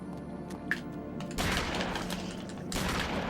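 Video game gunshots in Eternal Darkness, two loud close blasts roughly a second apart, each with a broad crack and short rumbling tail over a quiet ambient background.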